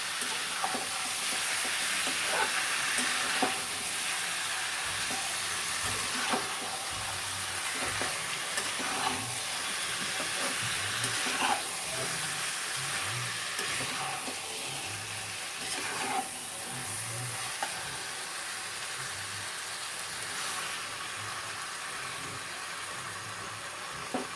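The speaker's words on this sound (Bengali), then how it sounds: "আঁচটা জোরে করে দিয়ে এটাকে ভালো করে গোল্ডেন ব্রাউন করে ভেজে নিতে হবে" Chicken for butter chicken fries golden brown over high heat, a steady dense sizzle with faint stirring scrapes, close and continuous, with no talking.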